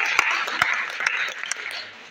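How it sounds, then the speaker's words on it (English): Audience applause at a school gathering where students are addressed, a brief burst of dense hand clapping with a few sharper claps standing out, steady and moderately loud. "Let us give them a hand clap."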